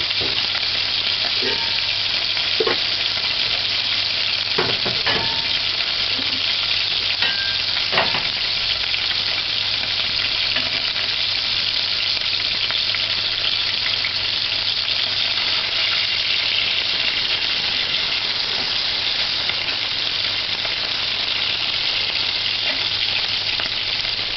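Oil spatters fiercely on a stove while chicken fries for ackee and chicken, a dense, constant loud sizzle with scattered sharp pops and crackles.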